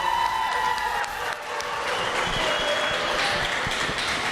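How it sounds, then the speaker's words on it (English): Crowd applause and scattered cheering fill the arena at a meat goat show, a steady dense wash of clapping with voices mixed in throughout. "everybody clap for her if you think she should win"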